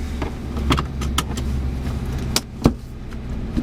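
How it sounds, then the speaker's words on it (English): A seatbelt is buckled inside a 2012 Ford Mustang GT 5.0 California Special: rustling and shifting over a steady cabin hum, then a single sharp, close latch click. "Always have to buckle up, safety first."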